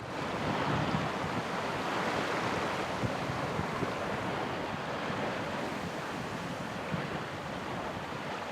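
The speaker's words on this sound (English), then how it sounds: "Just a bit gusty wind, but that's fine." Steady gusty wind roars over rolling surf at sea aboard a sailboat, continuous and fairly loud, with no voices.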